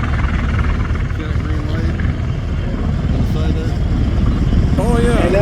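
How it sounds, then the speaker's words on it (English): V-22 Osprey tiltrotor aircraft powering up for takeoff at an airshow in Santa Maria, California, a loud steady rotor and engine roar throughout with a voice speaking over it. "It'll generate enough lift to help the Osprey take off, just like any plane."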